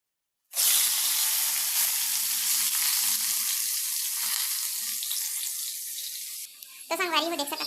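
Vegetables hit hot oil in a kadhai with a sudden loud burst of frying, then a steady sizzle that slowly eases; a voice starts speaking near the end.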